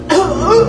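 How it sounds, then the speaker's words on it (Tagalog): A single short cough, close and fairly loud, with a slight chuckle-like edge. "Oh, ayan na. Inuubo na."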